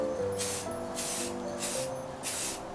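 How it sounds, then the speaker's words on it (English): Gold spray paint hissing from an aerosol can onto plastic dart throwers in four short, even bursts with brief gaps, loud and close over a soft musical bed. "the first thing that you want to do is to spray paint them with a gold color"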